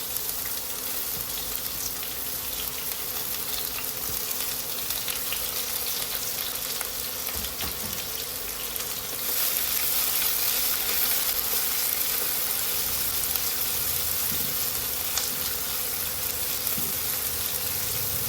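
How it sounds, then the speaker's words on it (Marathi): Onion frying in hot oil with cumin seeds for a seaweed dish, a steady hissing sizzle that swells louder partway through and keeps going without talk. "जिरे गरम झाला आहे, आता मी याच्यामध्ये कांदा टाकत आहे."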